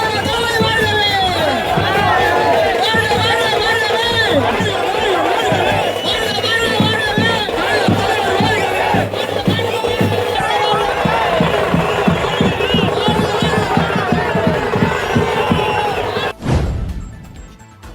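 Roadside welcome by hundreds of DMK party supporters, a loud dense crowd din of cheering and shouting with rapid popping bursts through the middle before it cuts off sharply near the end.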